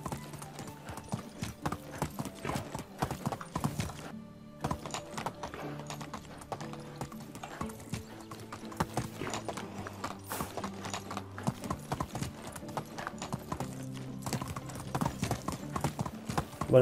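A slightly injured horse ridden in the video game Medieval Dynasty clip-clops steadily along, a continuous, close run of rhythmic hoofbeats with occasional mechanical creaks, faint voice underneath.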